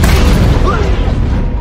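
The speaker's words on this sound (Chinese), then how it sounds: "然后射出致命一炮" A cannon shot explodes in the animated film Lightyear: a loud, dense boom and rumble fills the whole short stretch without letting up.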